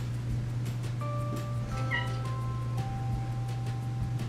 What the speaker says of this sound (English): My cat's in here. He's making me kind of nervous.